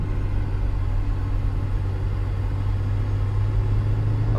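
A supercharged BMW E39 M5 with the S62 engine gives a steady, loud, low engine drone that holds a constant level throughout, with only a slight lift near the end.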